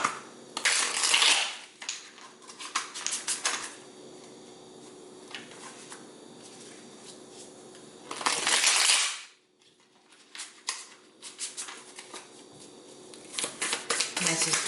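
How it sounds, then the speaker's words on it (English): Tarot cards being shuffled by hand in bursts of riffling and crisp, papery crackle, loud at the start and again near the middle, with quieter handling and soft shuffling between. "let me just shuffle this again."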